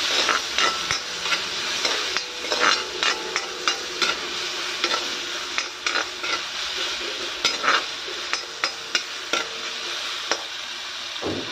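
Jackfruit seeds fry with salt and turmeric in a pan, a continuous sizzle broken by repeated sharp clicks and scrapes of a spatula stirring at an uneven rhythm, close and moderately loud.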